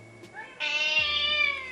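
A tired house cat gives a short meow, a brief whining cry that rises and then drawls out, heard close by in a quiet room.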